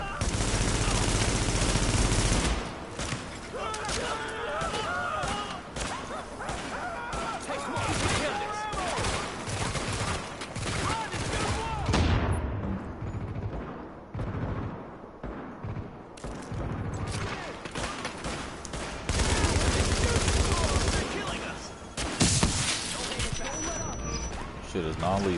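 Light machine gun fire rattles in The Division on PS4 inside underground tunnels, long sustained bursts and overlapping shots crackling loud and near, pausing briefly before resuming, with someone talking over the gunfire.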